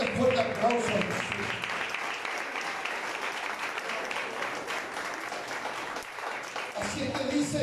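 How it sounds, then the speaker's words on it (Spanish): A church congregation claps loudly during a sermon, producing a dense, steady wash of applause, with a voice heard briefly at the start and again at the end. "Un fuerte aplauso a Jesús."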